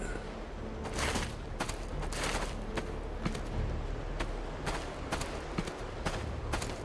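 Sniper rifle shots crack in Batman: Arkham Asylum, a string of sharp, evenly spaced reports fired one after another over a low background rumble.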